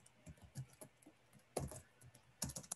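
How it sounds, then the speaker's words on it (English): Quick, uneven keystrokes clatter on a computer keyboard, close but quiet, with short bursts of typing and small pauses, and no voices. "I type the dialogues over here so they can actually see it."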